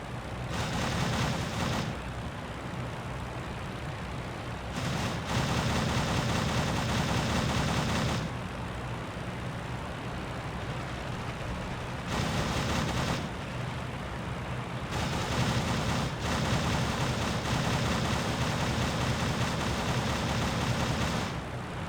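Aircraft machine guns firing in the WWI flight game Rise of Flight, heard as several long, rattling bursts separated by short pauses, over a constant engine drone.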